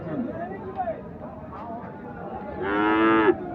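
At a village cattle market, bulls low amid a murmur of people talking, with one long, loud moo rising clearly near the end.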